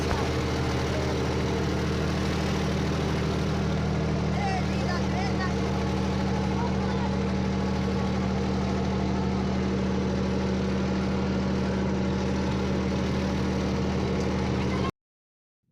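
A tractor engine stuck in sand at a village wedding drones in a heavy, steady, close rumble with a constant low hum, while people talk over it.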